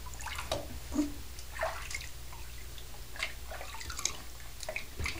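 Water splashes and drips lightly while a six-week-old puppy gets its first bath, in soft irregular sloshes and trickles at a quiet level with no voices.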